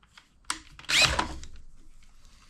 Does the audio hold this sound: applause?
no